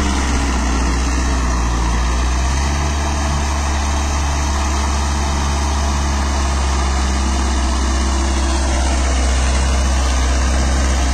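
A VST Sakthi MT 270 DI Virat 4WD mini tractor engine runs steadily at close range during turmeric harvesting, a low continuous rumble with a buzzing mechanical drone and no talking.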